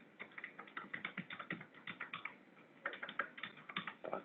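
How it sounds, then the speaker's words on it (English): Typing a login on a computer keyboard: quick bursts of soft, close key clicks in an irregular rhythm, with a short pause partway through, quiet and with no talk over it. "I am going to use the login that I just created for Sammy"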